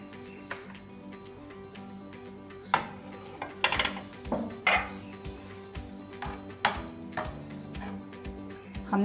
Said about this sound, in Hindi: अभी आपको डिश आउट करके दिखाते हैं।